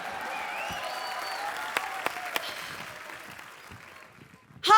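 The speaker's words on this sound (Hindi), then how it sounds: "मैं ताली का नेटवर्क चेक कर रहा था कि आ रही आवाज कि नहीं आ रही" On a studio comedy show, a few sharp hand claps ring out over a low bed of audience murmur and applause, with people talking throughout.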